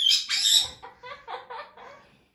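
Pet macaw or eclectus parrot squawking in a short run of about five to six harsh calls indoors, loudest at first and then fading, close to the listener with no talk over it.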